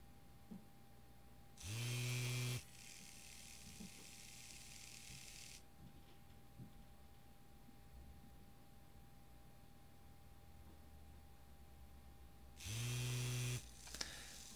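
Two DC motors driven by an Arduino L298P motor shield spin up in two short loud whirring bursts about eleven seconds apart, separated by a long quiet stretch of faint hum.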